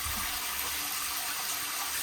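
Water from an off-grid shower system pouring steadily back into a pot, a continuous close, loud rushing and splashing stream with no pauses.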